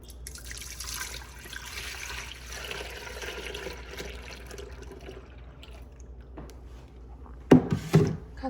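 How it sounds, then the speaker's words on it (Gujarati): Milk is poured into the inner pot of an Instant Pot as a steady, moderately loud liquid stream lasting several seconds, followed near the end by a couple of sharper knocks. "અને આટલું દૂધ અંદર વેડી દઈશું"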